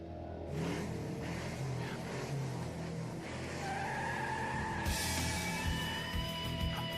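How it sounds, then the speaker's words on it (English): Racing cars rev and accelerate at a motorsport event, a loud continuous engine roar with rising pitch sweeps and tire skids, building steadily over several seconds with no talk. "Drivers, start your engines."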